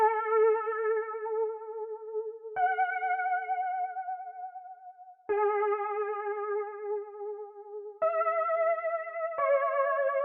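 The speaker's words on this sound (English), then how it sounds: "Alright, so next thing we got this lead from Analog Lab." Analog Lab synth lead with flanger and echo effects, a harmonically rich sustained tone playing long held notes in a slow melodic line, clear and alone with no voices.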